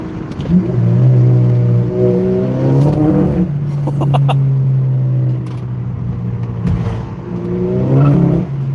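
Car accelerating hard with wheelspin in second gear on new, thinner-profile tires, a loud engine note climbing in pitch with tire squeal, dropping and rising again across a few gear pulls.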